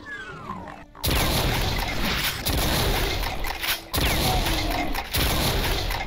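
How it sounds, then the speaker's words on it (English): Super shotgun blasts from The Ultimate Doom, fired three or four times at an even pace, each a loud, sharp boom over a dense, noisy game mix. "This is a great shooter for taking out pinky demons now, the super shotgun."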